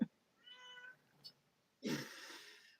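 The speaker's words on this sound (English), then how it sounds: "there's the screaming cat who I assure Oh you has been gosh, fed. she's hungry already" A hungry house cat meows loudly indoors, a short tonal call followed by a longer harsh yowl, up close with no talk.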